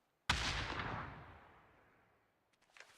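A single grenade explodes in a PUBG match with a sudden loud boom, and its rumble decays slowly over about two seconds. A few faint crackles and thuds follow near the end.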